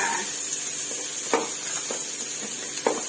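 Onion and carrot stir-frying with garlic in a hot pan for rad na noodles, a constant bright sizzle broken by a few scraping stirs of the utensil.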